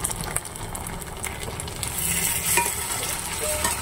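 Steady sizzling of turmeric, dried red chilli and a little tomato sauce frying in a hot pan, with occasional stirring scrapes, continuous and close with no talking.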